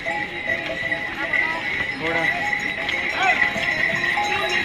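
Horses' hooves clip-clop along a shared mountain path to Kedarnath, with a horse neighing nearby and people talking.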